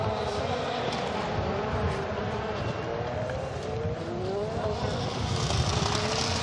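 Rallycross race cars at a World RX qualifying session in Türkiye roar continuously along the track, engines loud and close with a dense, steady howl, faint tire scrub, and a commentator talking over the top.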